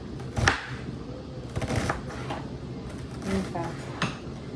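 A knife slices through an onion, giving a few sharp cutting strokes and thumps against the board mixed with clinks of kitchen utensils, close and moderately loud.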